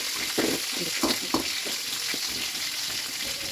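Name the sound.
green chillies roasting in a pan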